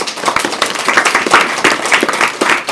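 Audience applause for the first-place team at a startup accelerator final, dense steady clapping from a crowd close by, lasting a few seconds without pause.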